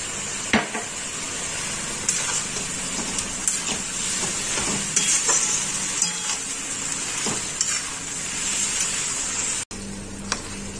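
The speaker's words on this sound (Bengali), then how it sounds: "আমি ওই যে পাস্তাটা যে সেদ্ধ করে রেখেছিলাম তারই সামান্য একটু জল এর মধ্যে অ্যাড করব" Pasta cooking water and oregano go into pesto in a pan, giving a steady sizzle and hiss with repeated spoon stirring and light scrapes against the pan, close and continuous throughout.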